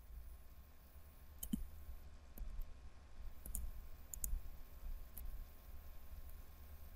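Several sharp computer mouse clicks, spaced apart over a low steady room hum.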